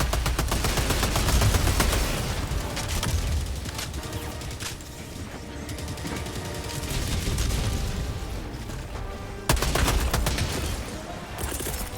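Dense, continuous gunfire fills a firefight against Automatons in Helldivers 2, rapid heavy machine-gun bursts and booming impacts layered with little pause, loud and close throughout, with a brief break before the shooting resumes.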